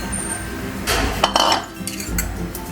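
Utensil scraping and clinking against a plate while flaked canned tuna is mixed with mayonnaise and chopped onion, with a few louder bursts of stirring in the middle of otherwise quiet kitchen activity.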